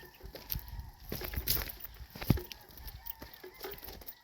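Chickens and fighting roosters at a gamefowl poultry farm in Murcia, Negros Occidental, with scattered clucks and fowl calls, a sharp squawk near the middle, and shuffling noises around them.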